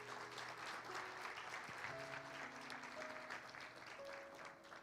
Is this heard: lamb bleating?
no